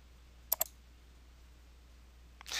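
A computer mouse clicks twice in quick succession, close and crisp against a quiet background, followed by a faint rustle near the end.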